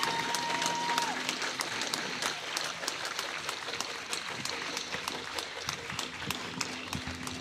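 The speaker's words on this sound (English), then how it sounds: "You can clap." Protest crowd outdoors claps steadily, a moderately distant, even wash of many hands with a few sharper individual claps and faint voices mixed in.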